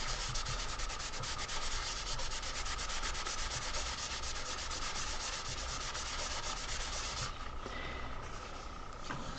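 Gentle rubbing by hand across heat-embossed paper card to lift off white residue, a steady dry scratchy friction that continues evenly and close up, with no talking.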